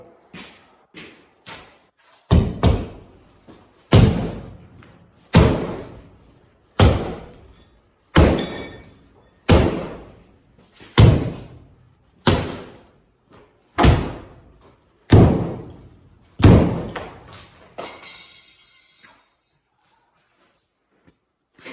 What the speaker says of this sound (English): see if we can knock that chunk out of there